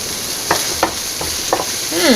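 Onions and garlic frying in a pan, a steady close sizzle broken by several scraping stirs, with a brief voice at the end.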